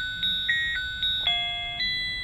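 Alarm clock made for visually impaired users chiming a sequence of clear electronic beeps, about five evenly spaced tones with shifting pitch, close and alone with no talking.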